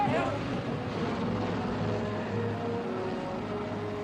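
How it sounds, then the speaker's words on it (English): A large CH-53 military transport helicopter lifts off during an evacuation, its engines and rotors making a loud, steady, continuous roar close by with no break. "And then the helicopter took off."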